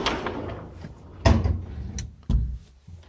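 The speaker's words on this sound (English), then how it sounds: "here's back to the pocket door" A sliding pocket door with a glass pane is moved in a mansion, with rolling scrapes and three sharp thuds as it slides and bumps to a stop, close and clear.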